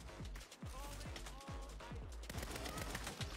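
Rapid bursts of gunfire from the Saints Row video game crack in a dense series near the listener, with mechanical clicks between volleys.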